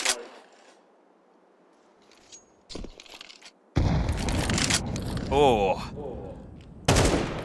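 Grenade blast in Counter-Strike on the Anubis map during a pro esports match, a loud heavy burst with crackling gunfire around it, brief quiet lead-in, and a caster's voice talking over the action.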